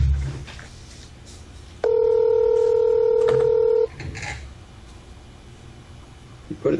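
Telephone keypad tones beep as a number is dialed, one long steady two-tone press standing out clearly against quiet room noise, with faint rustling before and after.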